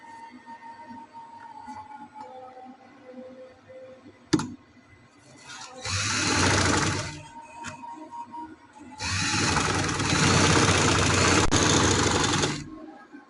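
A sewing machine stitches piping onto fabric in a boutique-style tailoring setting, running in two steady, fairly loud bursts with a quieter pause between them.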